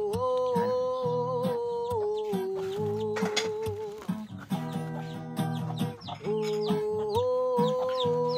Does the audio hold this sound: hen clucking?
yes